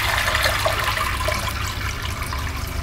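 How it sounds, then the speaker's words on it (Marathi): Water poured from a pot into a wok set on a stove, a steady rushing splash that stays loud and close throughout with no talking. "आता आपण कढईत पाणी घालते."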